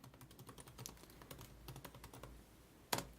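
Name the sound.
typing notes into CRM software on a computer keyboard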